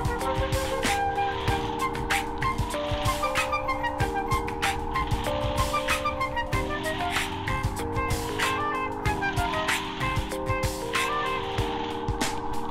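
A child's toy car with a remote-control antenna plays a loud looping electronic tune of bright beeping notes and melody, continuous and close throughout.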